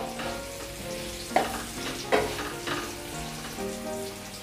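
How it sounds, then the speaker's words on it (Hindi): Potato pieces shallow-fry in oil in a kadhai over a medium flame, giving a steady crackling sizzle with a couple of sharp clinks of a utensil against the pan. "कलर चेंज होने तक हमें इन्हें फ्राई कर लेंगे।"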